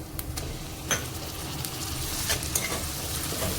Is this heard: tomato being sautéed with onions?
yes